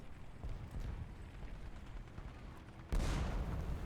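Anti-air machine guns firing in War Thunder, in a World War I setting: a low rumbling stream of distant gunfire and thuds, then a sudden louder burst toward the end, with no talking.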